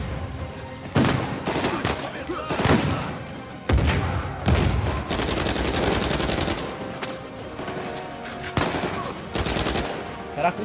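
Bursts of rapid gunfire in the video game Uncharted 4, repeated automatic volleys with loud sharp shots and short pauses between, filling the whole stretch at close range.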